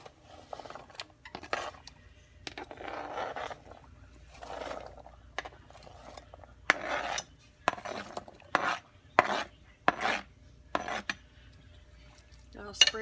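Small potatoes, a carrot and an onion dropped and placed into a crock pot, a run of soft thuds, knocks and clatters against the pot at uneven intervals, fairly faint and close, with occasional quiet voice.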